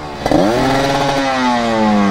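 A motorcycle engine on a daily-commuter tune snaps up sharply and then holds a loud, steady, high-pitched drone at its rev limiter, close by with no one talking.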